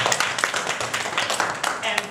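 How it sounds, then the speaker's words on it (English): An audience claps in a round of applause, dense and steady for about two seconds, with the claps blending into a continuous wash. "Let's give them a round of applause."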